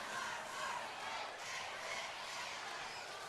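Crowd noise fills a high school basketball gym during a game between Mount Vernon and Hamilton Southeastern, with a visiting group of fans present. A fairly faint, steady murmur of many voices swells and fades without a break.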